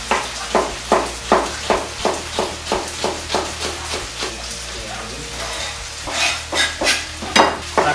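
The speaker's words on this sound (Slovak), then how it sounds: "Mäsko sa nám práži." Chicken pieces frying and being stirred in a pan for a stuffed chicken tortilla, with onion added: a repeated rhythmic scraping stir over a steady close sizzle, no talking.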